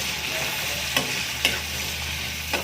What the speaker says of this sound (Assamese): বিলাহীটো এয়া সিজালৈকে এয়া ভাজিম মই বিলাহী আলুতে